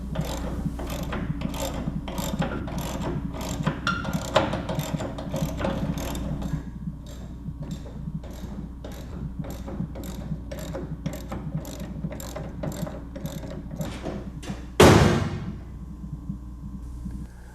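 Rapid, rhythmic clicking of a ratchet wrench tightening bolts as a door is attached to its hinges on a 1968 Mustang California Special, close and continuous, ending in a sharp metallic clunk near the end.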